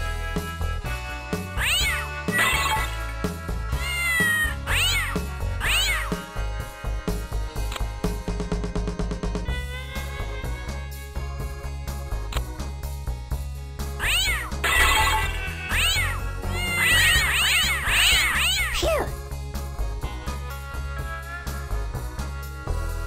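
Cartoonish meows from cats in the 1995 Windows puzzle game The Incredible Machine 3 rise repeatedly over looping game music, in clusters of several calls with short gaps between them.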